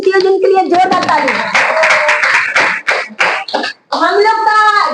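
Applause from an audience at a DXN meeting: a crowd claps steadily under and between loud amplified speech, and the clapping thins out toward the end while the talking carries on.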